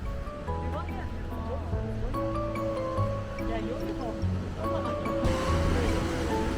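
Ocean waves rush and surge beneath a steady wash of noise, with people talking and music-like tones over it, at Gap Park in Sydney, Australia.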